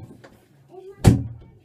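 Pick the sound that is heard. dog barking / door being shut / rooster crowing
door being shut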